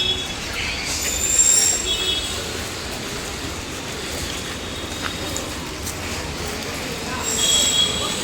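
A train at Nalasopara railway station rumbles with a steady roar and high wheel squeal that swells now and then. Traffic noise and background voices mix in at the outdoor station.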